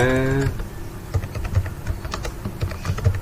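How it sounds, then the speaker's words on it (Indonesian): Close computer keyboard typing follows a brief tonal beep, with quick, irregular key taps that slow into scattered clicks. "saya ketikkan di sini misalnya halo dunia"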